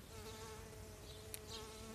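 A steady insect buzzing hums continuously at a moderate level, bees hovering around pruned sage flowers, with no voices.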